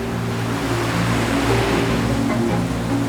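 Steady, heavy rush of turbulent sea water with a low churning rumble, continuous and broad like rough sea surging through a narrow channel with ferocious currents and whirlpools.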